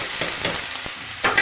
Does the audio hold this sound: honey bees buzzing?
no